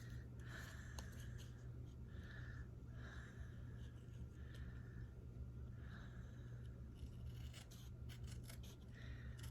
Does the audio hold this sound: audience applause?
no